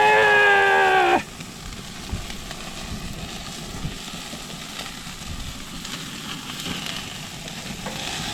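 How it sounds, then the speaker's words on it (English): Burgers sizzle as they burn on a cooker outdoors in cold weather, a steady close hiss and crackle that follows a short tonal hum at the very start. "My burgers are burning."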